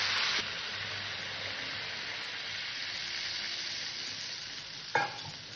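Chicken curry made without onion or garlic sizzles and hisses steadily in a hot pan after the marinade-plate rinse water goes in, a continuous broad frying hiss that ends in a short clatter near the end.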